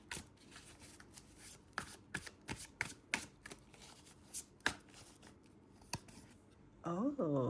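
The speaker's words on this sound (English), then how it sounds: "I am shuffling the cards" Tarot cards are shuffled close up in quick, irregular riffles and snaps, with a voice briefly speaking at the very end.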